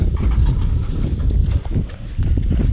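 A bullock cart's hooves clop steadily on a road, a continuous close rhythm of dull hoof strikes with low rumbling underneath throughout.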